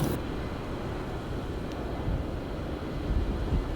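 A loud, steady low roar from a Pratt & Whitney jet engine in Microsoft Flight Simulator 2020, heard as a constant broadband rumble from inside the aircraft.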